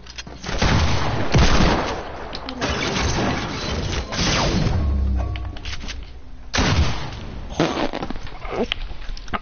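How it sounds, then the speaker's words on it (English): Heavy video game gunfire from a minigun and rocket launcher, sustained loud bursts and blasts filling most of the stretch, with brief lulls between volleys. "Stop using the minigun. Whoa, Dominic, stop using the rocket launcher."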